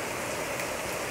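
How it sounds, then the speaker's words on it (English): Steady rain falls around a boat under repair, a dense continuous hiss of drops on surfaces without pause. "this rain is getting so old."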